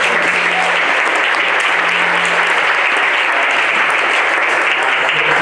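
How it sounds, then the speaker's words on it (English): An audience at an employee engagement awards event in Chicago applauds the nominees with dense, sustained clapping. The sound is loud and even throughout, with no voices over it. "there's a round of applause for every single nominee here"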